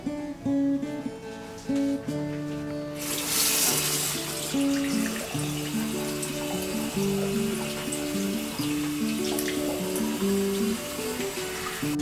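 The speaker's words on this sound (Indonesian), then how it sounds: "Mencuci tangan dengan air mengalir sangatlah sederhana." Hands are washed under running tap water, a steady hiss of flowing water that starts a few seconds in and continues beneath background music.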